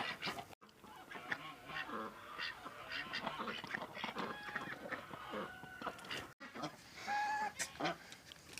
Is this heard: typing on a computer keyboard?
no